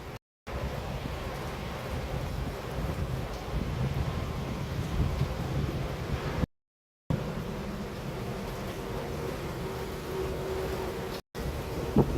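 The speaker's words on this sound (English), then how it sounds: "Wind is picking up a lot." Strong, steady wind roars and buffets the microphone during a severe thunderstorm in Stockbridge, Henry County, Georgia, broken by two short silent gaps; no voices.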